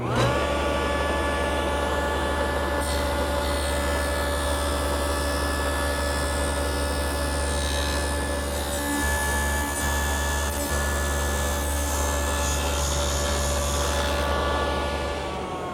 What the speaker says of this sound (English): I'm going to go through the dado slowly because it's set at a very deep depth.